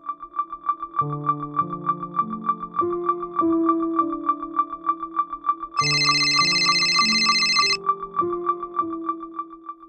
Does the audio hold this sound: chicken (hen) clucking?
no